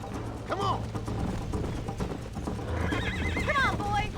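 Horse hooves clip-clop at a gallop in a video game, with whinnies and neighs cutting through, under music and a voice speaking.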